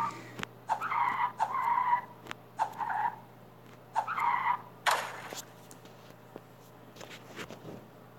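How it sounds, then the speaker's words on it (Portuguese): Repeated tire-skid squeals from the Sling Drift mobile game come in short, separate bursts with quiet gaps between them, with no engine sound or background music. "só tem aí os efeitos sonoros das derrapagens dos pneus"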